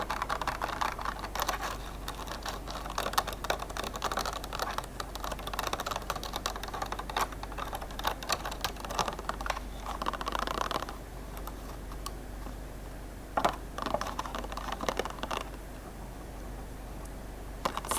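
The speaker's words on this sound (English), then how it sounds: "Tomatoes came inside of this. It's like a really thin, crinkly plastic," Rapid tapping and scratching on a thin, crinkly plastic tomato container, with busy clicks and rustles running steadily close up, then briefly thinning before scattered sharp taps return.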